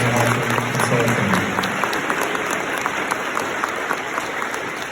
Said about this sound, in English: let's give a round of applause to Halter Consulting.